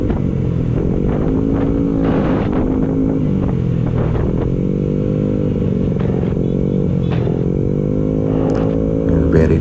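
Loud motorcycle engine droning steadily while riding on a city street, its pitch rising and falling with shifts in speed, and wind and traffic noise mixed in throughout.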